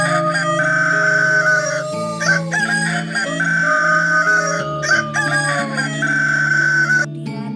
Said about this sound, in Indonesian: kemudian terdengarlah suara kokokan hayam